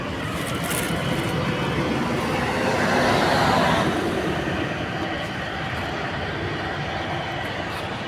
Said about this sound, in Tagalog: Maingay dito kasi tabing kalsada lang talaga to eh.